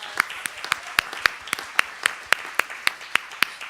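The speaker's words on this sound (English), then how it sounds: "Give him a nice warm applause." A small audience clapping at a steady, sparse rhythm, with distinct individual claps spaced evenly over a few seconds.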